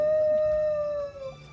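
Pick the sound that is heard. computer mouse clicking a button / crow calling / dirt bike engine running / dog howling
dog howling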